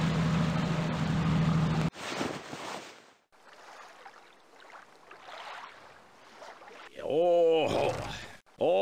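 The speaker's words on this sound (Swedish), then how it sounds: "stäng av motorn! Ljudet skrämmer ju sälarna!" A boat motor drones loudly, then cuts off abruptly, leaving quieter water sounds near seals before someone speaks near the end.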